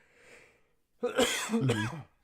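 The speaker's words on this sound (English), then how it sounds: "I coughed" A single sharp cough, close and fairly loud, comes after a faint murmur, with a short follow-on burst that sounds like throat clearing.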